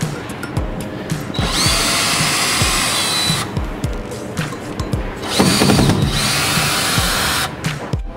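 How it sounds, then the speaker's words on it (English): Power drill backing out screws from the mounting blocks of a crate holding a Trotec Speedy 400 or Speedy 360 laser machine: close, loud whirring runs of a few seconds each, with brief clicking pauses between them. "we want to take the screws out that are securing the mounting blocks"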